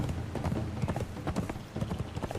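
A horse's hooves clip-clop at a steady trot in the Conan Exiles video game, a dense run of close, even beats over a constant busy game background.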